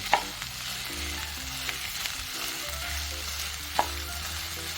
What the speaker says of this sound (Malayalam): ഉള്ളി മൂത്ത് വന്നപ്പോൾ ഞാൻ വെണ്ടയ്ക്ക ഇട്ടു, അരിഞ്ഞു വെച്ചേക്കുന്ന വെണ്ടയ്ക്ക.